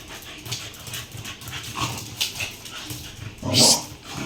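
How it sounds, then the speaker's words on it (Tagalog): Dogs, including an aspin and a shih tzu, pant and snuffle close by after rough play, soft irregular breathing with small rustles and a louder burst of movement near the end. "Hingal na, hingal na."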